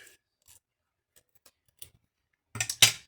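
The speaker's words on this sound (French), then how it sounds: "je vais le couper en deux, lui." Scissors cutting paper in two for a scrapbook page: a few faint, sparse snips and ticks, then a close, louder burst of three quick crisp cuts at the end, with no talking.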